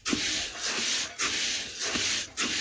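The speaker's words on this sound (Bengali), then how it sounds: "এইভাবে নাড়তে নাড়তে আমি কিছুক্ষণ চালটা ভালোভাবে গরম করে নেব" Raw rice is stirred and heated in a pan to make puffed rice. Close, dry scraping strokes repeat rhythmically about twice a second over a continuous gritty rustle, with no voices.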